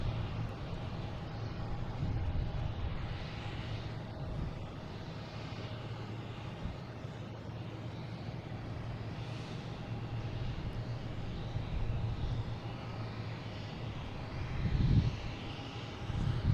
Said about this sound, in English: we have American Airlines taking off, heading to Columbus. E175